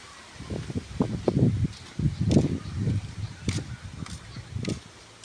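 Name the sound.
wind rustling leaves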